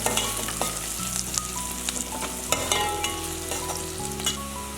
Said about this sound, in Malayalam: ഇനി ആ മഞ്ഞളിൻ്റെ കുത്തൽ മാറുന്ന വരെ ഒന്ന് വഴറ്റി കൊടുക്കാം.